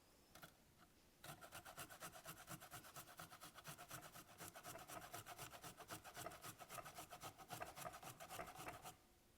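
Fresh ginger rasped against a grater into an empty pot, a steady run of quick scraping strokes at close range after a brief pause, with no talk over it.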